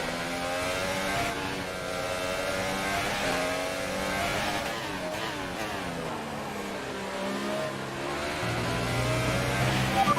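Formula 1 car engine in F1 2018 racing game, revving and shifting through gears continuously, with rising and falling pitch sweeps as the car slides loose and recovers; loud and close throughout, no talking.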